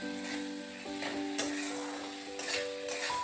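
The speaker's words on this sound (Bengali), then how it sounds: "এবারে আমি এই সমস্ত উপকরণগুলোকে ভালো করে নাড়ি চাড়িয়ে কষিয়ে নেব।" Spices are stirred and sautéed in a pan for a Bengali rui fish curry with potato and pointed gourd, giving a steady close sizzle broken by a few sharp scraping clinks of the spoon, with no talking.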